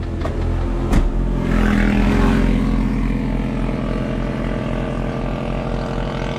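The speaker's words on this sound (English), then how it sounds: "Two guys on motorcycles going by." Two motorcycles pass by outdoors: a loud, steady engine roar swells over a couple of seconds, then slowly fades as they ride away, with no talking.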